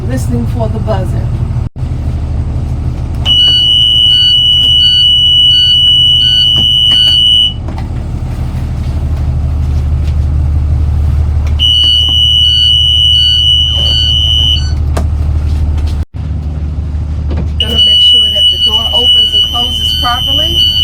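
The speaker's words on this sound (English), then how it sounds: "Listening for the buzzer." A school bus warning buzzer sounds during a pretrip check. It gives three long, shrill, steady tones with gaps between them, over a low idling engine rumble.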